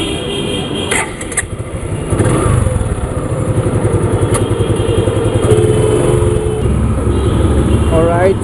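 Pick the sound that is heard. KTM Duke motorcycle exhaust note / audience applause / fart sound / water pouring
KTM Duke motorcycle exhaust note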